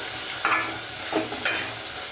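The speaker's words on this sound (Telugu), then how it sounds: "టమాటా ముక్కలు బాగా మెత్తగా మగ్గినాయండి" Tomato pieces cooking down in a pan for a Telugu curry, a soft steady sizzle broken by a few short scraping stirs.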